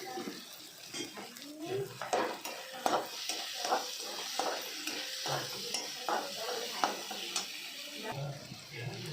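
Salted tomatoes sizzling in a pan as they are stirred, with the frying hiss and clinks of the spoon running steadily underneath a person talking.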